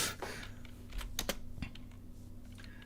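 Fast typing on a computer keyboard, with close, crisp clicks arriving in quick uneven runs and short pauses, alone without speech.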